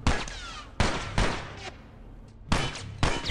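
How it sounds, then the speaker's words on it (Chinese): Gunfire in The Last of Us comes as several loud, sharp shots spaced irregularly about half a second to a second apart, each with a short decaying tail, with quieter room noise between them. "泰斯你开枪啊"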